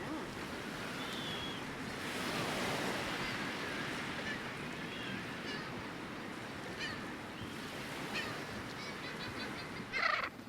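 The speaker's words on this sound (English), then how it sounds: "I hear ocean." A steady wash of surf roars continuously, with faint bird calls and other brief noises breaking through near the end.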